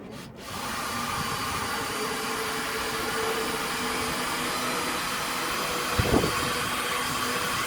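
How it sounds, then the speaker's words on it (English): A car headlight lens is polished with compound, giving a steady, loud broadband whooshing rub that runs unbroken for several seconds, with a brief knock near the end and no voices. "I'm just going to polish them up and then be done with it"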